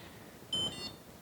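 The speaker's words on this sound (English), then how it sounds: "Get used to that beep sound," Single short electronic beep from a blood meter during ketone testing, a bright tone lasting about half a second over quiet room noise.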